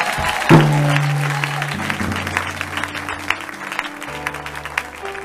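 A church congregation at a baptism service claps for Jesus in a loud, dense burst of applause, steady over sustained musical tones underneath, with no clear speech.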